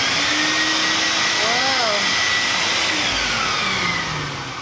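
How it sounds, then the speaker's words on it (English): A sandblasting cabinet's vacuum suction roars loud and steady, its pitch wavering and sweeping slightly, while a voice speaks briefly partway through before the roar tapers off near the end. "the suction will be pulled through the vacuum"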